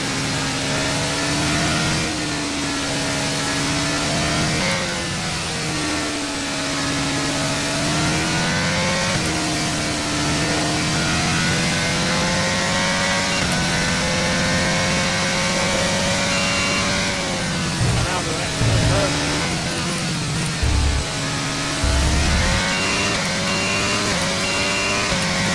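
Formula 1 race car engines at the Japanese Grand Prix in the F1 23 video game, a continuous high-revving whine that rises and falls through gear shifts across the whole stretch, loud and steady with no talking.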